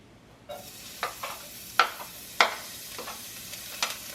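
Garlic dropping into hot cooking oil for a sautéed bottle gourd and ground meat dish, giving a steady sizzle broken by several sharp spatters and stirring scrapes at an uneven pace, with no talk.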